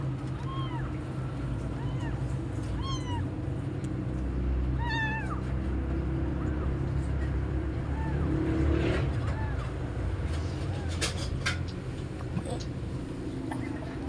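Abandoned kittens meow in several thin, rising cries, some in quick runs, over steady background rumble and low conversation.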